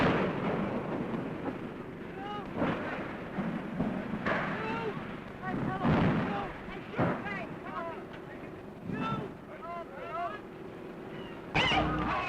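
Archival newsreel of the Hindenburg airship burning and crashing: repeated booming blasts and rumbling roar mixed with crackling bursts, under a loud commentator's voice throughout.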